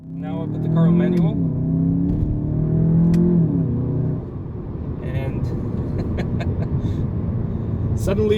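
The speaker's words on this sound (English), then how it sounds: "The noise of the engine has changed. It's become growlier, a deeper note to the exhaust." 2019 Jetta GLI 35th Anniversary Edition with a 7-speed DSG in manual mode, its engine revving up in two rising growls before dropping to a deeper rumble, with a voice speaking briefly over it.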